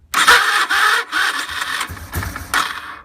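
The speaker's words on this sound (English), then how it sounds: "The Tw200 is making this horrible noise." A Yamaha TW200 motorcycle's starter motor gives a loud, harsh grinding squeal in several close bursts with short gaps between them, heard alone.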